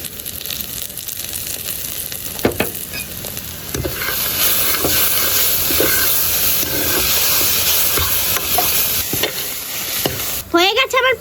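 Ghee sizzles and hisses in a pan of grated raw papaya mixture for papaya sweets while a spoon stirs and scrapes steadily, with a few sharper clinks and a louder scraping burst near the end.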